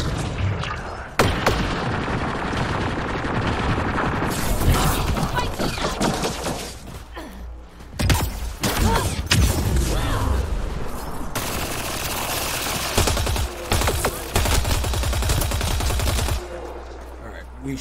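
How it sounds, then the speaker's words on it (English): Enemy gunfire in the Mass Effect Andromeda video game, dense bursts of automatic shots and heavy booms crackling on and off throughout, loud and close with a few brief pauses. "Who is shooting at me?"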